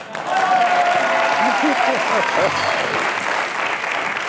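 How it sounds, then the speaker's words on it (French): Studio audience applause on a French TV talk show, a burst of clapping from the crowd that continues beneath voices and some laughter throughout. "ça s'applaudit"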